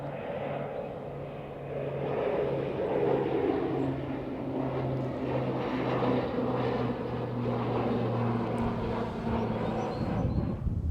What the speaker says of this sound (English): The M28 Skytruck just departed.